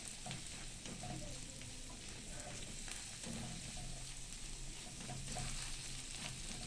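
Chopped onion and garlic soften in a pan for a crab dish, making a continuous close sizzle broken by repeated scrapes and clatters of stirring.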